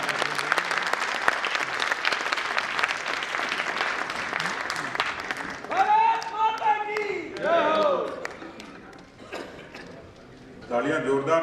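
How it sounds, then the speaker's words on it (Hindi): Applause from an audience at a state BJP working committee meeting, a broad clapping wash in the first half that gives way to a voice speaking over thinning claps. "एक बार जोरदार तालियों से।"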